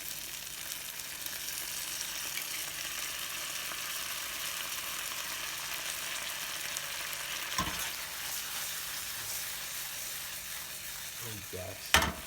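A pan of bacon tomato jam with balsamic vinegar cooks in a low, constant sizzle that holds steady throughout, with a couple of sharp spoon knocks against the pan near the middle and at the end.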